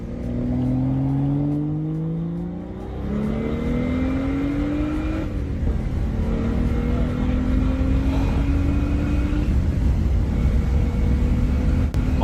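A BMW 335i with a stage 2 tune revs and pulls through several gears, the engine note rising and dropping in repeated sweeps, loud and sustained with steady road roar underneath.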